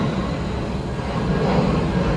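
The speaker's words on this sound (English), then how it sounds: "We have another plane." An airplane passes overhead as a steady, broad engine roar that holds even and unbroken for the whole short stretch, with no talking.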